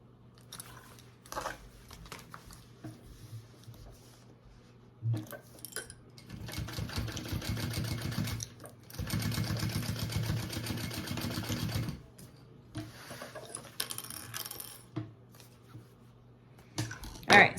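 A sewing machine bastes fabric pieces of a waist bag together, running in several bursts of steady rapid stitching between pauses, with fabric handling and small clicks in the gaps.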